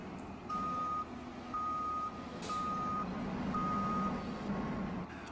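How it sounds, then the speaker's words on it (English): Reversing beeps from a Claas Lexion combine harvester in Farming Simulator 2013, a steady series of four evenly spaced electronic beeps over a constant engine drone. "Oh, I wasn't expecting to hear that backup sound."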